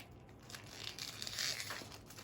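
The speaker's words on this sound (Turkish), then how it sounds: "Bir dakika ben şurayı makasla açacağım." Scissors snip and cut open a trading card pack wrapper, giving a close run of crinkly, crunching plastic rustles with no talk.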